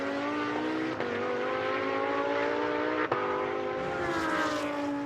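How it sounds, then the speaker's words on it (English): A GT2-class race car accelerates hard on the Algarve circuit during a GT2 Series race, its engine note rising steadily and loudly across the whole stretch with two brief gear-change dips, no voices over it. "race leader, Anthony Beltoise, accelerates up now towards turn 10"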